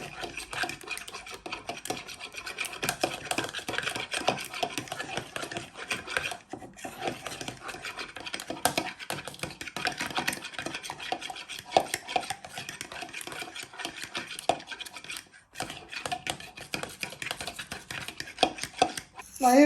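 Ingredients for homemade spaghetti are beaten in a bowl, a steady scraping and clinking that runs for about twenty seconds with brief pauses, close and moderately loud.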